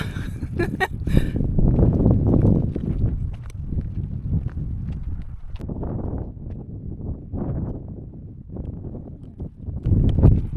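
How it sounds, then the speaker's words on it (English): Wind rumbles and buffets the microphone in waves, with a few faint higher sounds early on and no speech. "It's windy, yes."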